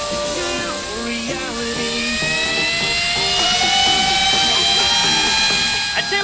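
A fidget spinner whirs at high speed during a trick shot, a loud steady whine with gliding pitch and fluttering tones, close to the ear and continuous.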